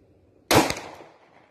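A single loud pistol shot, fired from a Glock at a cheap budget armor plate outdoors, a sharp crack with a short decaying tail, alone.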